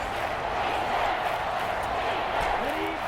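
Stadium crowd noise from Madden NFL 25, a steady broadband roar of cheering fans that swells slightly, loud and continuous throughout.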